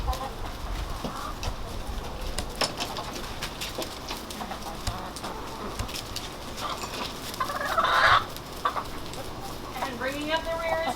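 A flock of backyard chickens, including an elderly hen, clucking and calling in scattered bursts as they move into an upgraded chicken run, while people talk nearby.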